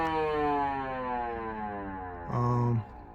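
Siren fitted in a 1951 Chevy Styleline Deluxe, a loud close wail slowly winding down in pitch, then a short louder burst before fading, with no one talking.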